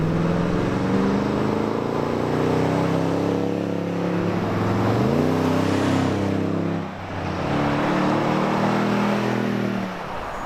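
A car fitted with a TRD dual exhaust pulls away and drives on, its engine droning loud and steady with rising and falling revs and a brief dip midway, heard from close by without talk.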